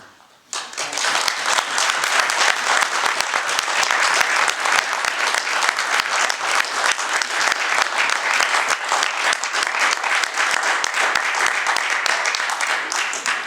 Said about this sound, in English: So I think a huge round of applause to thank Barry for everything he did